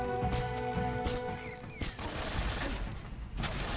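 Machine gun fire rattles in rapid bursts in Metal Gear Solid 3 gameplay, sharp repeated shots mixed with game sound effects and a musical drone, loud and close.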